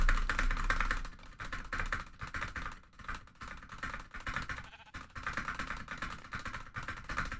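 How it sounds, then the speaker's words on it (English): Rapid, busy typing on a computer keyboard, keys clattering in dense bursts with short pauses, close by. "How badly can you hear me mashing my keyboard?"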